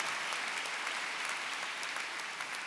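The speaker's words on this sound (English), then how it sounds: "You can give that a round of applause." An audience at a New York Law School commencement applauds steadily, a broad, even wash of many hands clapping throughout, fairly distant and moderate in level.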